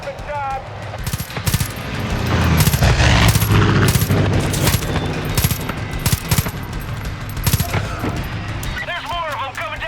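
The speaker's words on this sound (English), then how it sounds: "It's strafing time!" Far Cry 5 aircraft strafing a runway, with loud rapid bursts of gunfire in dense volleys and booming impacts, and voices shouting in between.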